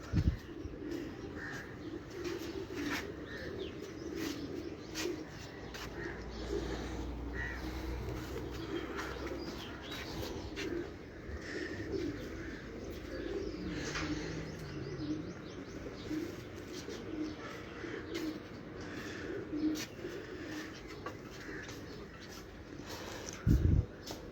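Pigeons coo softly on a rooftop among loft birds, with scattered chirps and light background noise and faint talk; the calls are fairly quiet and continuous across the stretch.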